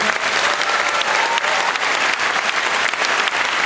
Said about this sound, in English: give a huge thanks and a huge round of applause for our team who has done just a fabulous job for this conference